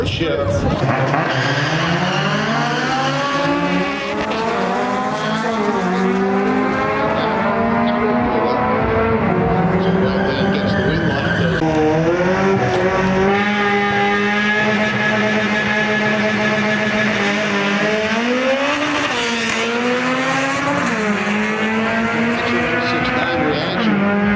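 Acura RSX and a Honda drag racing, engines wailing loud and close as revs climb in repeated rising sweeps through the gears, with talk running over the roar.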